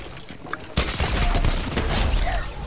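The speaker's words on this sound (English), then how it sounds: "I'm shooting." Rapid gunfire bursts from a video game match, starting abruptly and continuing as dense, loud shooting for a couple of seconds.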